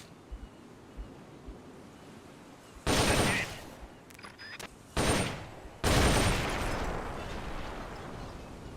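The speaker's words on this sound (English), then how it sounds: "The M16 is a standard assault rifle, capable of rapid fire." M16 assault rifle rapid fire in Metal Gear Solid Peace Walker: three short loud bursts of automatic fire, separated by pauses, with decaying echoes over a soft windy ambient background.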